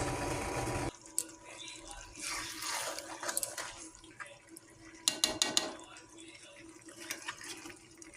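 Hot water poured into braising meat curry in a home kitchen, a steady splashing pour with clinks of pots and utensils nearby.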